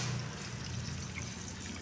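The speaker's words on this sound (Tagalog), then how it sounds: "Tapos lagyan natin ng kaunting tubig." A little water trickles into a pan of sautéed mushrooms with malunggay and ampalaya, making a brief, soft pour against a faint, hissing kitchen background.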